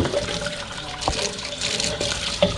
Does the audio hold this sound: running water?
yes